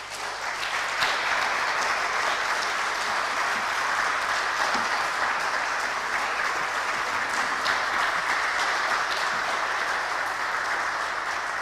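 Warm, sustained applause from an audience after a lecture on the remembrance of the Armenian martyrs, a dense even wash of many clapping hands filling the hall for over ten seconds.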